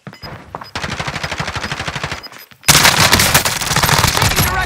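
Rapid automatic gunfire from a battle royale video game, a steady rattling stream of shots that breaks off briefly and then returns as a louder, denser volley, close and dominant with no talk over it.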